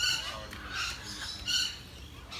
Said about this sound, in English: This is a green wing macaw.